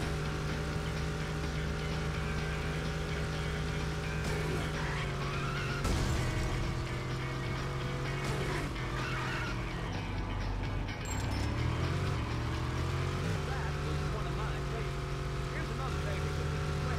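Racing car engine in the PS2 video game US Racer (2002), a dense, steady loud roar that rises and falls in pitch with gear changes, running continuously throughout alongside game music and effects.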